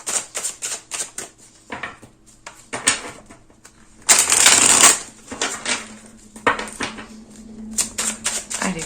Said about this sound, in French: Je rajoute juste une carte du tarot par-dessus.